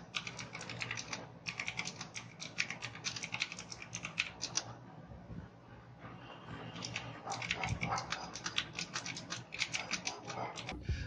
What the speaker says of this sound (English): that satisfying key press noise of the mechanical